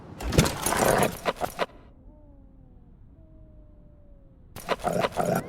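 A dog in the Life Is Strange video game gives a short whine, drawn out and faint, sitting alone between bursts of louder broadband game noise.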